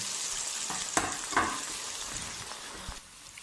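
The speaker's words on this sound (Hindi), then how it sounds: "अब ये 4 अदद दरमियाने प्याज हैं जिन्हें हमने स्लाइस कर लिया है और इसे अब हम फ्राई कर लेंगे" Four medium sliced onions fry in hot oil in a kadhai, making a continuous close sizzle. A few sharper crackles and stirring scrapes stand out before the hiss eases slightly near the end.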